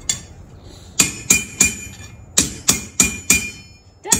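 Hammer taps ring on copper being work hardened, arriving in two clusters of sharp, bright metallic strikes with short ringing tails, loud and close with quiet gaps between.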